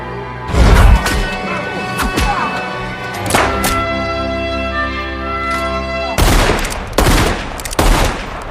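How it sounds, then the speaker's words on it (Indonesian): Gunshots ring out in a western film, several loud sharp blasts in a ragged burst with ringing tails, then a sustained musical tone and more shots near the end. "Setelahnya datanglah King yang mendengar suara tembakan"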